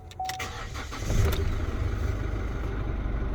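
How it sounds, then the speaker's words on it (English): A 2018 Chevrolet Colorado LS pickup is started, with a brief crank and then a steady low engine idle that holds at an even level. "As I turn the car on."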